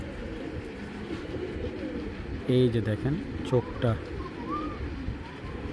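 Fancy pigeons, a Bangladeshi pair with striking eyes, coo in a low, steady murmur, with someone talking loudly over them in the middle of the stretch.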